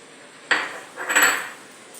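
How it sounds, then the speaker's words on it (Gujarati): A metal spoon stirs Gujarati kadhi in a cooking pot, giving two clinking scrapes against the pot about half a second apart, near and fairly loud over a quiet background, with no talk. "હવે આપણે એમાં થોડોક ચમચો ફેરવી દઈશું"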